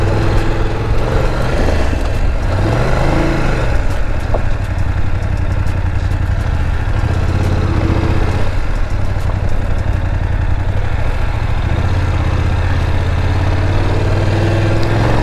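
A motorcycle engine rumbles continuously while riding a rough road, a loud steady low drone with rattling clatter and pitch dips as the rider eases off and picks up again, with no talk.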